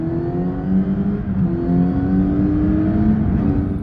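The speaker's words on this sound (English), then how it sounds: "When you crank on that throttle, you'll hear it and you'll feel it" A Kawasaki Z900 RS Cafe motorcycle engine revs steadily and loudly, a sustained high whine riding over a deep rumble without letup.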